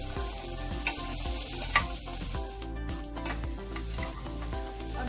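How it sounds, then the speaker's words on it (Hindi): Vegetable curry with crushed roasted peanuts stirred over low heat, a steady frying sizzle under repeated scraping strokes of a spoon against the pan, close and continuous with no talking. "अब इसे बिल्कुल धीमी आंच पर चलाते हुए सब कुछ मिक्स कर लेना है जो हमने इसमें डाला है"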